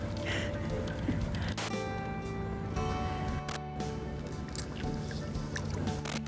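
Fluke fish flopping about in a small fishing boat on the water, with scattered wet slaps and thumps over lapping water and hull noise.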